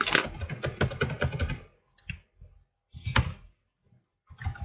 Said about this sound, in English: Okay, you should type your password.